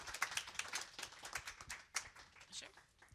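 An audience applauds after a talk, a dense patter of many hands clapping close by that carries on through the whole clip.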